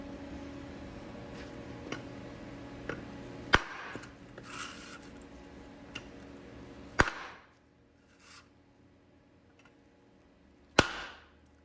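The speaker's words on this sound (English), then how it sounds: "I think it's about 1/2 inch aluminum round bar. It's 6061 T6, and I'm going to chop some of this." Sharp, isolated chops strike a half-inch 6061 T6 aluminum round bar, three loud cracking impacts spaced a few seconds apart, with quieter knocks and handling noise between them.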